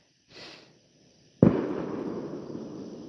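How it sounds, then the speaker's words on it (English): Neighbourhood fireworks go off: a faint pop, then a sharp close bang followed by a long crackling, fizzing tail that slowly fades. "Let's go save Christine from the fireworks. They're lighting them again."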